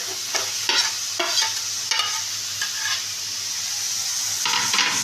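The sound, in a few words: stirring potatoes and eggplant into fried spice paste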